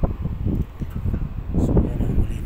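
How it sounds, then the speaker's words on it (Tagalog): An air blower cleans dust from an electrical control panel and its components, a steady low rushing roar with fluctuating gusts running throughout, close to the microphone. "So i-blower na lang natin tong electrical control."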